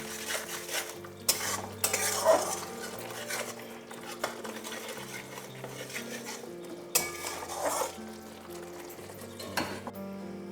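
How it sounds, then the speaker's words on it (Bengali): Fish masala being stirred and sautéed in a pan, with a spoon scraping and clinking against the metal in irregular strokes over a soft, steady sizzle, close and fairly loud. "এবার এটাকে আবারও ভালো করে কষতে হবে"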